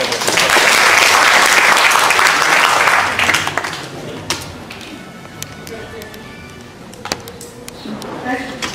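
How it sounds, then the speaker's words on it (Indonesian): An audience at a youth leadership forum claps loudly and densely for about three seconds. The applause then thins into a few scattered claps over quiet room noise. "Tepuk tangan juga buat Suka"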